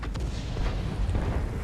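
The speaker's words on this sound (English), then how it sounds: "Tier 8 artillery hits the most heavily armoured tank in the game with a super heavy spall liner for 900" A heavy boom in the World of Tanks video game as a Tier 8 artillery shell strikes a heavily armoured tank, a short dense low-frequency blast with rumbling tail, loud and close.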